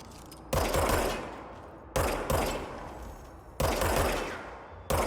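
Gunfire in the Control video game, with sharp shots striking an object, arriving in three bursts of loud impacts separated by short pauses, with no talking.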